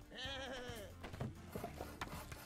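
Sheep bleat in the video game Lumberhill, with a wavering, drawn-out bleat up front followed by softer, shorter bleats and game sounds, near and moderately loud.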